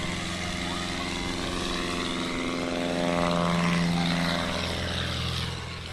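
A tail-dragger STOL plane takes off at full throttle at a STOL series event, its propeller engine a loud, steady drone with a broad harmonic hum that swells slightly midway and eases toward the end.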